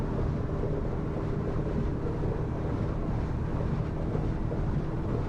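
Iron 907 Coupe boat running at speed on open water, a steady, dense engine drone and hull-and-wind rush holding constant as it pushes toward 40 knots around 4,800 RPM.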